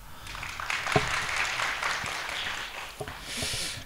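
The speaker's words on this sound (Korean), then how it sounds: "과학기부에도 박수 한번 부탁합니다" Audience applause at a disaster-safety research briefing, moderate scattered clapping with a few sharper claps standing out, dying back then swelling again near the end.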